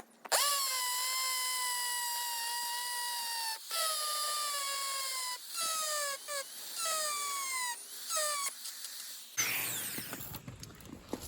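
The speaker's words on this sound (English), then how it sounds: "So I'll drill 2 more, one there and one there." A power drill boring a hole into concrete whines in repeated close, loud bursts that sag in pitch as the bit bites, with short pauses between, ending in a rough scraping clatter.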